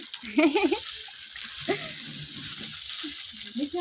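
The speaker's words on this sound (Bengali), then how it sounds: "মা এখানে মশলা করছে ভাজা মশলা চিকেনের মানে চিকেনটা হয়ে যাওয়ার পরে লাস্টে দেবে আর কি সেই ভাজা মশলাটা করছে এলাচ লবঙ্গ তেজপাতা গোটা জিরে" Whole spices for chicken curry, including cardamom, cloves, bay leaves and cumin seeds, fry in oil with a steady soft sizzle underneath intermittent nearby speech.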